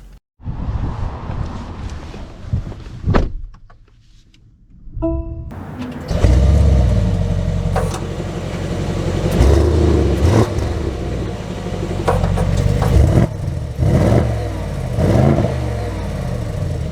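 A 2024 Mercedes-AMG GLE 63 S with a twin-turbo V8 fires up after a few cabin clicks, then settles into a deep, loud idle and rumbling revs as it pulls away, heard close from inside.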